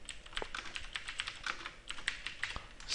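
Rapid typing of code on a computer keyboard, with a steady stream of close, crisp key clicks and occasional heavier keystrokes and no speech.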